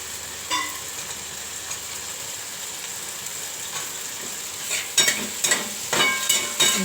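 A spoon stirs tomato chutney with chopped dates in a pan, starting with a quiet simmering bubble and then a few louder scraping, clattering strokes near the end; nobody speaks.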